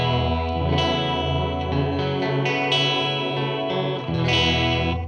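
Sustained synth or instrument tones run through a Replicant delay plugin set for a chorusing effect sound thick and shimmering, with swelling, overlapping held notes that play loud and continuous with no talking.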